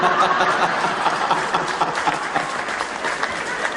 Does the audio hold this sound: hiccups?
no